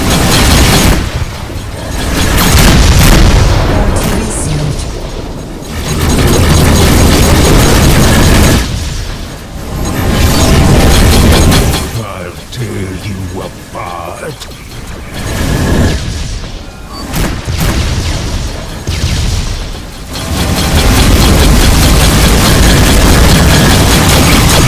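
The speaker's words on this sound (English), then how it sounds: "Missile inbound." Incoming missiles exploding in the space-combat game Rebel Galaxy Outlaw, a series of loud deep booms and rumbling blasts that swell and fade in several waves, heavy and close.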